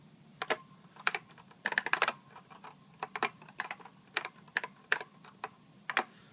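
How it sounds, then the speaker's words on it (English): Fingers type on an old Macintosh computer keyboard, producing close, crisp, irregular clacks in quick bursts and short pauses, with no voices. "let's see if we can't type something here on this awesome old keyboard."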